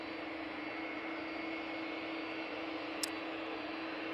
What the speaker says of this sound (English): That Virgin Atlantic is VS73 and is off to Orlando.